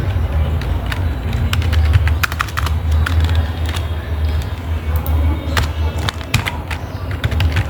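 Rapid clicking on a computer keyboard while typing a chat message, a close, busy run of keystrokes over a low steady hum, with no voices.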